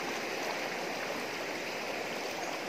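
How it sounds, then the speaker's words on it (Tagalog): A cool mountain stream flows steadily while someone bathes in it, a dense continuous rush of water close by with no pauses and no voices. "Ngayon pa ako makaligo ng sapa"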